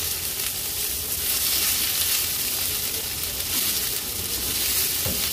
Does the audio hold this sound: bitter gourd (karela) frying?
yes